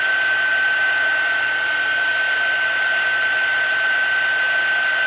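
A heat tool runs with a constant, loud whirring blow and a thin high whine throughout, melting embossing powder on a handmade stamped card, with no voices.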